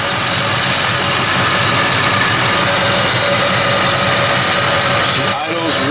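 A 1989 Ford Mustang LX 5.0 engine idles steadily up close, a constant low throbbing drone with an even rhythm that barely changes.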